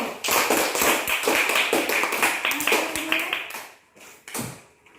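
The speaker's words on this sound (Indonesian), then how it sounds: "Tepuk tangan untuk kelompok 1." Classroom applause for a student group, a burst of brisk, uneven hand claps from several children that fades out after a few seconds.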